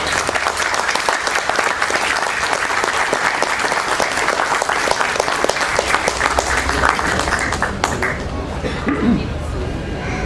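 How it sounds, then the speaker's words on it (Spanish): An audience at a tribute event for the writer Marcos Yauri breaks into sustained, dense applause that continues steadily throughout, with a murmur of voices mixed in underneath. "Yo les pido un nuevo voto de aplauso, por favor, para Marcos Yauri"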